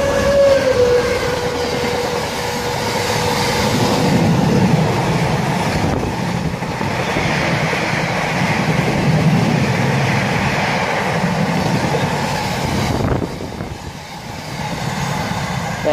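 A train rumbles past steadily on the Great Western Main Line at Langley, with broadband rail noise throughout, a brief high squeal at the start and a slight dip near the end.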